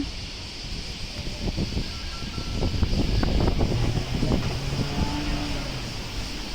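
Strong typhoon wind in Japan roaring continuously and buffeting the microphone, with rumbling gusts swelling midway and rustling and rattling mixed in, loud and constant throughout.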